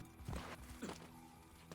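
Horse hooves clopping on city streets in the video game Assassin's Creed Brotherhood, a few heavy hoof strikes close up over a low game soundscape, with no talk.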